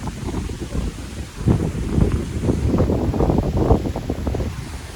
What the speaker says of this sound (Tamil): எப்படி காற்று வீசண்டு பாருங்க.